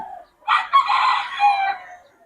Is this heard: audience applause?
no